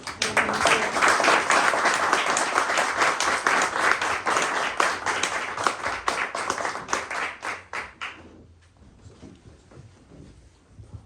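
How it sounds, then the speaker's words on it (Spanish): Applause and clapping from an audience at a book launch, a dense, loud burst of hand claps that continues for about eight seconds, then thins into a few scattered claps and fades. "Bueno, entonces un aplauso"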